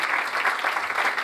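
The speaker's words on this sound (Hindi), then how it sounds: "जोरदार तालियां बजाएं" Loud, dense applause from a church congregation at an anniversary service, a steady wash of clapping with no break.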